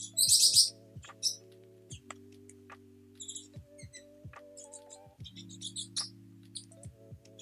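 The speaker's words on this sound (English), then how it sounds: "Faraday, he is crazy bird. He is on my desk right now" A pet bird climbs about on a desk, giving sharp high chirps in scattered bursts over a steady low electronic hum, with small tapping sounds and occasional clicks in between.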